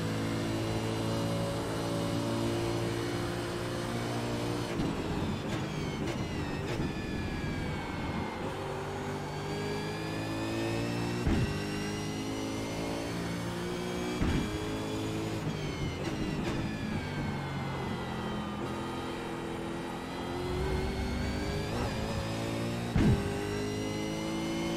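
A V8 Supercar from the iRacing sim races around Road America, its engine a loud, continuous drone that rises in pitch through the gears, with a few brief dips and sharp shift blips along the way.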